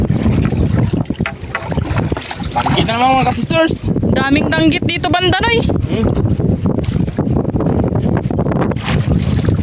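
Strong amihan monsoon wind buffets the microphone at sea aboard a small boat, a loud continuous rumble and roar, while someone talks over it.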